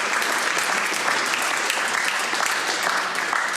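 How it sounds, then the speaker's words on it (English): Loud, dense applause from people in a state senate chamber gallery honoring visitors from the Jain Center of Northern California; continuous and even clapping throughout. "Maybe we could pause and give them a round of applause"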